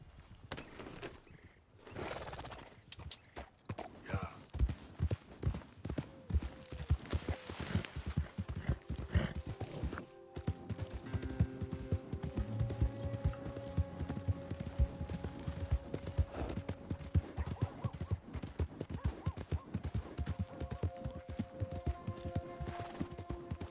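Steady rhythmic hoofbeats of a galloping horse in Red Dead Redemption 2 run continuously, with game music and effects layered underneath throughout.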